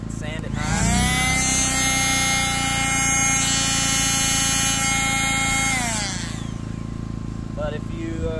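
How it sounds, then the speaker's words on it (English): A skill saw runs on a Harbor Freight Predator 2000 inverter generator, a loud whining motor that spins up, holds a steady high drone for several seconds, then winds down, close and dominant. "if you're gonna run this skill saw, it's pretty much maxing it out"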